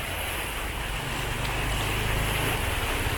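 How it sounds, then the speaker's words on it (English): A car drives through monsoon flood water on a street in Pattaya, Thailand, pushing up a wake: a loud, continuous watery rush and splash with a low engine rumble swelling in the middle, under gusty wind noise. "This car is creating a big wake here"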